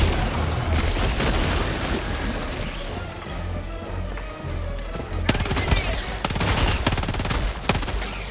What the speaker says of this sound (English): Here's another machine gun.